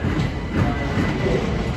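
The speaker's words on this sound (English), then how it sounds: "Now going 377-203 with the 1459 Gatwick Express to Brighton." A Gatwick Express unit 377 to Brighton pulls out of London Victoria station. Its rumble and wheel clatter come loud and continuous at close range.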